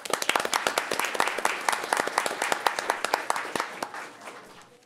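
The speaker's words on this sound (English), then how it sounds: "Everybody give her applause." An audience at a city council meeting claps for a visiting state senator, a brisk burst of many hands applauding together that thins and fades toward the end.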